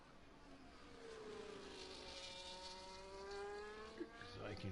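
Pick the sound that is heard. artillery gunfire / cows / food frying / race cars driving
race cars driving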